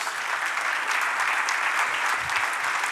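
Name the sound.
congregation applause in church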